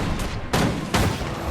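A turret firing in the video game Guild Wars 2: two loud, booming shots about half a second apart over a steady rumble of combat noise, with no voices.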